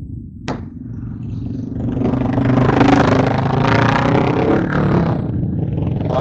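Motorcycle engines rumbling and revving at Sibu Bike Week 2025, a sharp crack near the start, then a loud, sustained mid-pitched roar of several bikes close by, with faint voices in the crowd.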